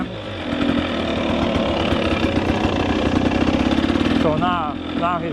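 A two-stroke dirt bike engine idling after a fuel setup change, a steady close buzzing rumble with rapid pulsing, ending with a brief rise and fall in pitch.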